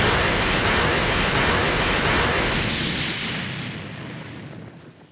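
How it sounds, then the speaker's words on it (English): A charged explosion move unleashing a big explosive wave in the Dragon Ball Xenoverse 2 video game, a loud sustained roaring blast that rumbles on and then fades away over several seconds. "the longer you hold it down, the bigger the explosive wave."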